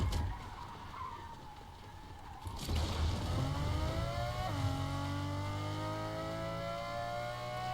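A banana-themed racing car in Fortnite skids with a brief screech, then its engine revs up loudly in a rising, sustained whine.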